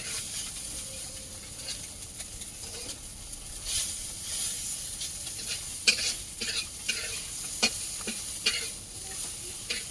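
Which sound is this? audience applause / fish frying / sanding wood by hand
fish frying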